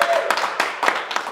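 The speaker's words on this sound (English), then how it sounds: "Congratulations, everybody clap." Children clap after a beginner karate lesson at home, with a handful of close, uneven claps over about a second.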